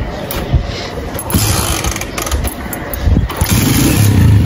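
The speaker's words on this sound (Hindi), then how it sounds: "बाइक स्टार्ट कर रहे हैं" A heavy motorcycle engine cranks and sputters as someone tries to start it outdoors, a rough, uneven rumble with loud chuffs near the mic.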